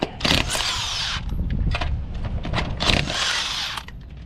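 An impact wrench on a Toyota 4Runner removes the 21 mm lug nuts in loud, close bursts of rattling hammering, two long runs separated by short clicks and pauses, with no talking.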